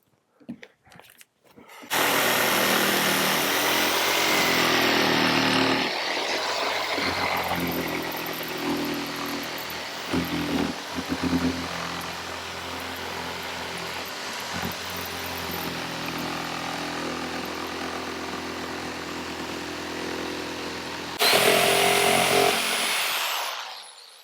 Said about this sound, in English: Chainsaw is not really a finished carpentry tool